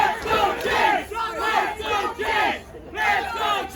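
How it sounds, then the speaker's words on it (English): A wrestling crowd at an independent show chants loudly in rhythmic bursts, about four repeated swells of many voices shouting together. "Chanting for Chase Nebular."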